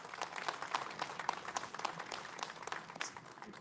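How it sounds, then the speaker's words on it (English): A crowd applauds steadily, dense clapping holding at an even level for a few seconds with no talk over it, at a Big Truck Day event at a public works museum. "So join me in giving a round of applause"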